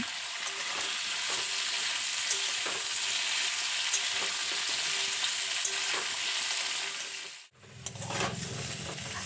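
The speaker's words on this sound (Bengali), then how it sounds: "পেঁপেগুলোকেও আলুর সাথে খুব ভালো করে ভেজে নেব" Potatoes and papaya fry in a pan with a continuous close sizzle and light stirring clicks, then the hiss briefly cuts out and resumes with a lower, bubbling sizzle near the end.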